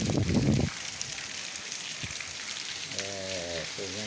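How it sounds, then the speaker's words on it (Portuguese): Rain falls on a Sunday afternoon in the Barrocão community of northeastern Brazil, a soft, steady patter throughout, with a brief louder burst at the start and a few tonal sounds near the end. "uma chuva boa"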